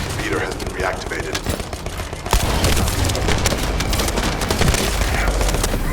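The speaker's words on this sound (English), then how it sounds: "That stopped the gunfire." Rapid bursts of gunfire in The First Descendant crackle over a low rumble, growing denser and louder partway through, with faint voices mixed in.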